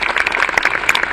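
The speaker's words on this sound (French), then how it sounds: "Camille, on peut applaudir" A group applauds at an award moment for a member of a club, with steady, dense clapping heard close throughout the short moment.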